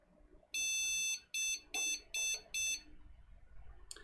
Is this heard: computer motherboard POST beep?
yes